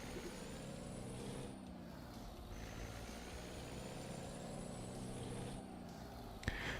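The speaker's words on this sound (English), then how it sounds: "Now you should be able to hear the truck" A truck engine drones steadily in American Truck Simulator, a continuous low rumble with faint whining tones and a brief hiss like an air brake near the end, no talk over it.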